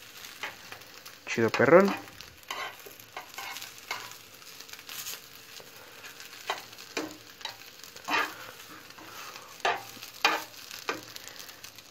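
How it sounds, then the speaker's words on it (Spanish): Sausages cooking in a pan give a low sizzle, broken by occasional louder crackles and scraping bursts, with a brief spoken remark partway through. "Ahora nada más es de esperar a que esas salchichas terminen de cocerse acá"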